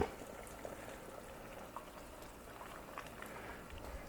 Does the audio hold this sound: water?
yes